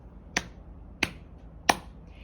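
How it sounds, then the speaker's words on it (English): Three sharp hand claps ring out close by, evenly spaced about two-thirds of a second apart, each a crisp isolated crack against a quiet room. "the light bulb fish lit up if you clap 3 times"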